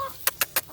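Backyard chickens give three quick, evenly spaced clucks, close and fairly soft, in a brief burst with no talking.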